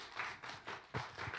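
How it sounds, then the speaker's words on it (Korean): A group claps briefly during a Sunday church youth service, with a few quick bursts of clapping at low volume. "자, 박수."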